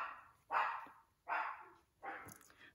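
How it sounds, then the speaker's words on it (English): A pet dog barking indoors in a home crafting space: three loud, separate barks about a second apart, fairly close, with no talking. "Sorry, the dog's barking"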